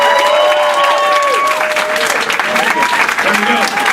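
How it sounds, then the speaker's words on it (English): Loud audience applause and cheering at a Power-Con 2013 convention panel for Teenage Mutant Ninja Turtles voice actors, a dense steady clatter of clapping with voices and whoops mixed in. "Give them all a big round of applause."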